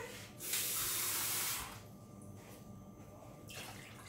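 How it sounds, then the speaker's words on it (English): Water gushes into a cooking pot where roti dough shapes will be cooked: a loud hissing pour lasting about a second, then a quieter second splash near the end. "at this point you can add more water because your roti, your shapes are going to actually cook in this particular water"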